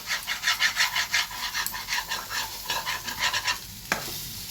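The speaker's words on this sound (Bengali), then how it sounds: "এটাকে নেড়ে নেব, সব একসঙ্গে মিশিয়ে নেব।" Veg roll filling with a little tomato sauce being stirred in a pan, quick rhythmic scraping strokes over a soft sizzle, close by, with a sharp knock near the end.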